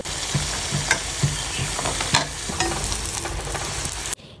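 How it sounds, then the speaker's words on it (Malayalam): Samosas frying in hot oil give a steady, loud sizzle throughout, with occasional stirring clinks and pops near at hand and no talk. "പിന്നെ കുറച്ച് സമൂസയും കൂടെ പൊരിച്ചെടുക്കുന്നുണ്ട്"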